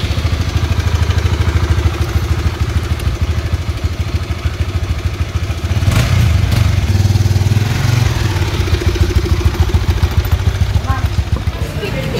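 A Honda CB150X motorcycle idles up close in a steady, even rumble that grows a little louder about halfway through, with background voices faintly under the engine.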